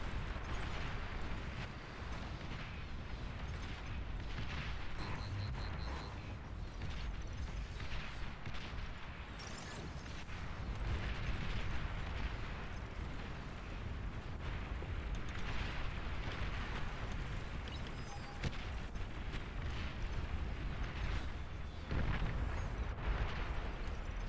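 Continuous rumbling explosions and battle blasts roll through a real-time strategy game, Beyond All Reason, as an enemy commander is destroyed, a dense loud wash of booms with no voices.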